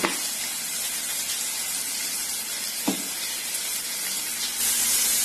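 Chopped onions fry in a pan with a little salt for a bottle gourd curry, giving a steady, broad sizzling hiss that stays constant throughout, with one brief clink near the middle and no talk.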